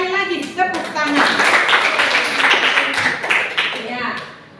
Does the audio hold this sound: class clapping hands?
yes